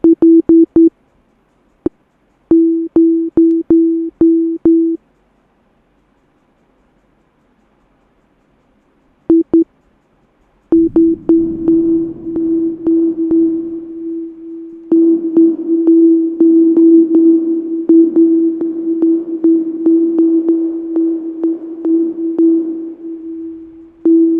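Simple pluck synth built in Serum inside FL Studio, a single-pitched tone repeated in short rapid plucks with a pause, then a denser, steadier stream of notes carrying a noisy, washy tail.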